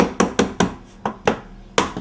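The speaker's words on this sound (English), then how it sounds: "I just want to tap it in place and get it ready." Wooden door threshold tapped into place at an entrance door: sharp, close knocks in an uneven series of about eight hits, alone with no talk.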